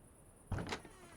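A door opens in the point-and-click game Foolish Mortals with a single short creaking, sliding sweep over a faint quiet background.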